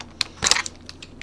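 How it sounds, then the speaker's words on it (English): Keyboard typing on a computer, a handful of quick light clicks with one denser burst of keystrokes in the middle, close and fairly quiet. "Say you're typing along, you know, you're typing,"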